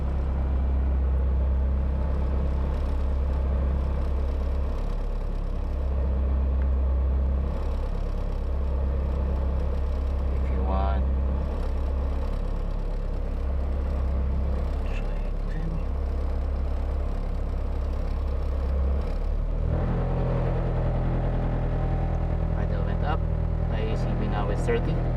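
A Honda K20 engine idles with its idle air control valve driven by a PnPduino, a steady low rumble that shifts to a fuller, higher idle about three quarters of the way through, with faint talk in places.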